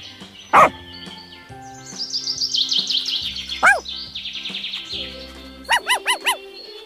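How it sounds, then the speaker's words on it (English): A dog gives a single sharp bark near the start, then a quick run of short yips near the end, mixed with chirping bird-like calls over faint background music. "D for dog."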